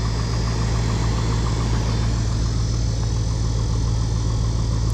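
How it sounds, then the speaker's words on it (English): A truck engine idles loudly and steadily with a low, rhythmic lower end knock pulsing throughout, no talking. "you hear that lower end knock?"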